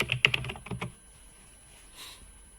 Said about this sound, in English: if you type quantum finance